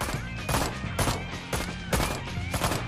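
Rapid gunfire in the shooter Road to Hell: Retribution, loud close bursts of shots repeating roughly every half second in a dense, rattling volley with no talk.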